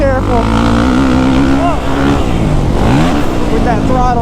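A 2023 Kawasaki KX450SR dirt bike engine revving under throttle, loud and close, its pitch climbing and dipping in several throttle swells, with a voice talking over it.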